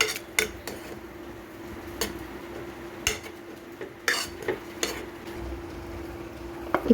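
Pressure-cooked lentils (dal) are mashed in a metal pot for sweet poli, giving soft squelching strokes with sharp, irregular clinks of the utensil against the pot over a low background hum.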